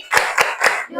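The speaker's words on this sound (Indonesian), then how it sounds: "Ya, tepuk jempol." Children doing thumb clapping in a classroom, three distinct, sharp claps spaced evenly and heard up close, with nobody speaking over them.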